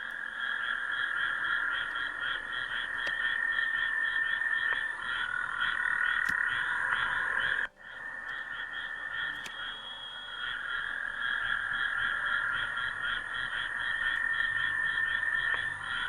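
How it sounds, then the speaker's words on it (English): Frogs croak and chirp in a dense, continuous pulsing chorus just outside a house at night, steady and fairly loud with no talking, broken by a brief gap partway through. "I don't know what kind of frogs these are. But they just sit outside and they just talk to each other."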